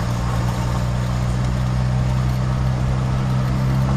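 An MG Midget sports car engine hums steadily at a low, even rumble in fourth gear on country lanes, continuous and fairly loud throughout, heard from inside the car.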